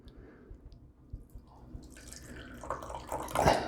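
Liquid poured off into a container, starting with a few soft drips and building to a close, splashing pour near the end.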